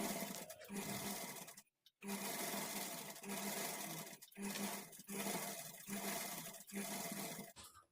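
A sewing machine stitches a folded edge on the hemming strip of a lined blouse, running in loud steady bursts with a few short pauses between runs, close by.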